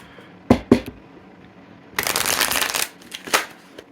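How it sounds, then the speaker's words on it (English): Cards are riffled twice in quick taps on a shaky table, then a longer shuffle ripples for about a second, followed by a couple of soft card snaps. "Let me shuffle these cards."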